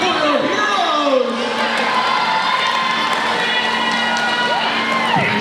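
Crowd cheering at a flat track roller derby bout in an indoor arena, sustained loud shouting, whoops and high-pitched yells from many spectators, continuous throughout with some voices rising above the roar.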